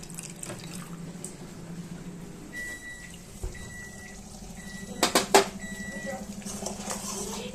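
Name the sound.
water being taken into a bowl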